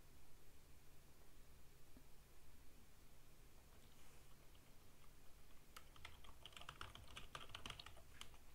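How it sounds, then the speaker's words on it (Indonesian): Someone types on a computer keyboard: faint, quick clusters of clicking keystrokes come in over a low hiss after a quiet stretch, with no talk. "Wait, ada yang ngetik."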